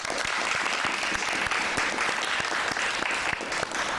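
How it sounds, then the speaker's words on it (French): An audience applauds a debater with sustained, dense clapping that holds steady and loud throughout, many hands at once in a room. "Je vous prie de l'applaudir."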